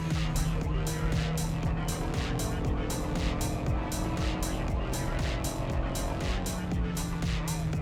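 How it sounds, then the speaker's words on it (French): A Dacia Logan drifts with a steady engine drone beneath rapid, rhythmic bursts of tire squeal that repeat evenly throughout, loud and close. "Cette voiture peut tout faire, y compris le drift pendant des kilomètres."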